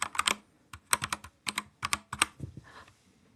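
Fingers tapping computer keyboard keycaps on a matcha-layout board in short, crisp clusters of keystrokes with brief pauses between bursts, close and clear, ending in a softer thud; no talking.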